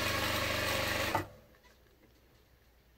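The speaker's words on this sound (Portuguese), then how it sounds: "eu só venho costurando um pouquinho pra dentro da minha primeira costura" A sewing machine runs loud and steady, stitching a seam just inside the first seam, then stops abruptly after about a second, leaving quiet room noise.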